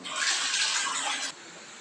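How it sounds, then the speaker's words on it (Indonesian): A bathroom water tap suddenly gushes, a steady hissing stream of running water heard close and fairly quiet, dropping to a softer trickle near the end. "Seperti keran air mandi yang tiba-tiba mengalir."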